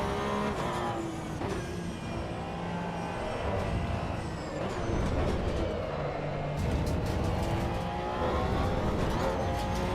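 A Porsche race car engine drones steadily in Assetto Corsa EVO, a continuous buzzing roar with shifting pitch as the car accelerates and lifts. It is loud and close throughout, with no talk over it.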